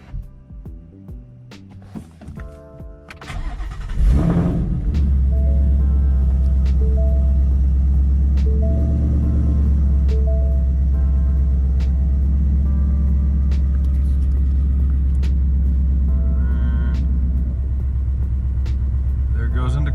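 A Ford Mustang GT engine starts and settles into a loud, deep steady idle rumble with faint clicks from the exhaust valve actuators moving, while a person talks nearby.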